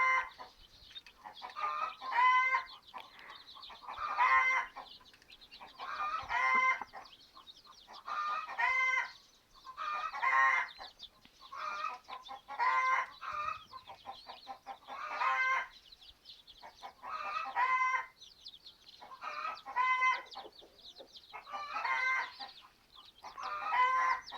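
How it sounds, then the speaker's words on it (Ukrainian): Chicks and chickens cheep and cluck in repeated bursts outdoors, lively and fairly close, with no speech. "Вже сьогодні ми наших курчат винесли на двір."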